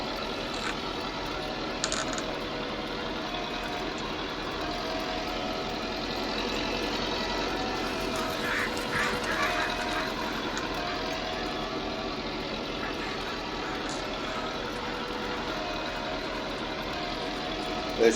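A 1966 Massey Ferguson 165 tractor engine labours steadily while pulling a cultivator up a hill across a field, a continuous loud, rough drone with no pauses throughout.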